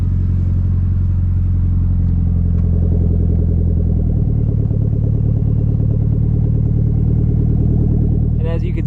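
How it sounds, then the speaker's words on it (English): A 2006 Mitsubishi Lancer Evolution IX with a full aftermarket exhaust idles with a deep, steady rumble, then the pitch rises and falls slightly as it revs, loud and close throughout. "we'll pop back out and get you an exhaust note while we're standing here"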